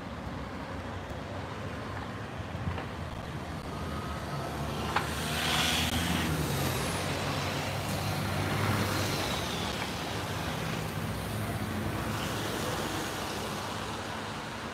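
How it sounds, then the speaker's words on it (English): Morning city street traffic at a corner of Lenin Street in Ufa, Russia, a steady wash of passing cars and engine rumble with the odd vehicle swelling nearer, moderately loud and continuous, no talk. "More and more cars and people in the streets."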